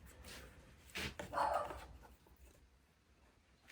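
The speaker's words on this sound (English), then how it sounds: "have a dog that likes to bark at everything that moves" A dog barks a couple of times at moderate distance indoors, a short burst of muffled yaps followed by fading quiet.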